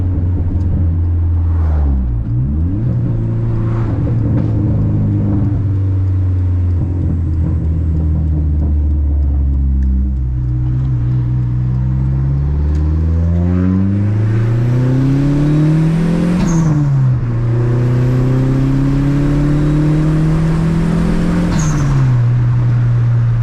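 A Dodge SRT-4 accelerating hard through the gears, heard close and loud from inside: the engine note climbs steadily, drops sharply at each shift, then climbs again, with a strong rumbling drone throughout.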